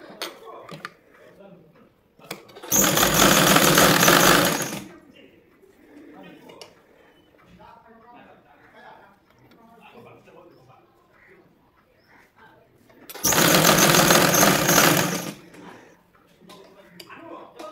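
A sewing machine stitching tucks into the front neck of a blouse runs in two loud, steady bursts of about two seconds each, close by. Quiet handling noises and faint talk fill the gaps between them.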